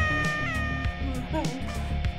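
A cartoonish cat meow in the multiplayer game Tower Unite's golf mode, fairly short and mixed in with excited overlapping chatter from several players.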